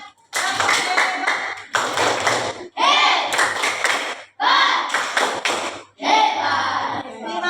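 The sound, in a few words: class clapping cheer (tepuk hebat)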